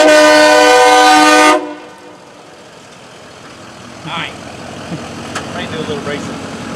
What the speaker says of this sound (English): I bring my own horn to a street race, sir.